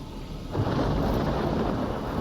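A loud, deep thunder rumble rolls in suddenly and holds steady over rain during a storm in the S.T.A.L.K.E.R. Anomaly video game.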